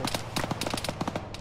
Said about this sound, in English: Just shot through the tree. You can hear it. That gun is the fucking technical.